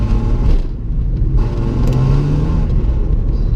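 A BMW E36 on the road with its engine cutting throttle, heard as a loud, steady in-car rumble of engine and road noise with a brief dip and surge in power, no voices over it.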